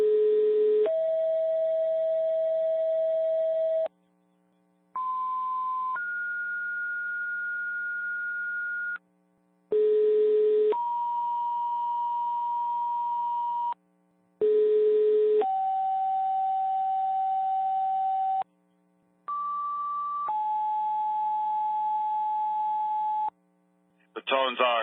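Sequential two-tone fire department dispatch alerts for a second-alarm structure fire in Jaffrey, New Hampshire, sound over a radio channel, loud steady paired tones in repeated sets separated by brief silences, with a low constant hum beneath.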